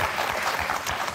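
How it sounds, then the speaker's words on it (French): A short burst of dense applause from a game-show studio audience, many hands clapping together at steady volume. "On va vous applaudir très fort d'abord."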